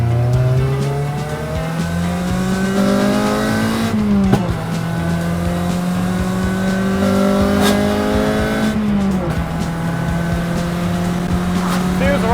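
A Honda Civic EP3 Type R's engine revs hard under acceleration, its loud, close, rising whine climbing through gears with two shifts where the pitch drops and then climbs again.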